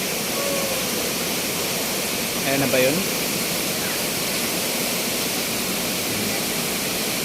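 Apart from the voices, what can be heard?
Aurora Falls waterfall in Baler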